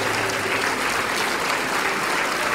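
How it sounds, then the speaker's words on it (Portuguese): A church congregation applauding during a service, dense continuous clapping from many hands filling the room, loud and steady throughout with no break. "Vamos aplaudir mais o Senhor Jesus por cada vida que está chegando."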